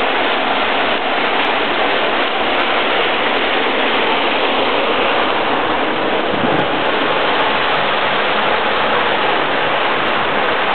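A waterfall pouring inside a cave rockface, a dense, steady roar of falling water that holds constant throughout, close and loud with no talking.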